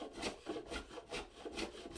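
A wooden blank for a camp hatchet handle being shaped with a plane, giving close, rhythmic scraping strokes about every half second, steady and alone with no voices.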